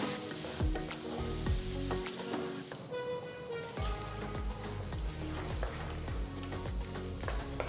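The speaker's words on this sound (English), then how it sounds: "Next add 2 green chilies slit, 4 medium-sized tomatoes chopped." Green chilies and chopped tomatoes sizzle loudly in a hot pan with ginger garlic paste, a steady frying hiss broken by repeated low scraping knocks as the mix is stirred, no voices.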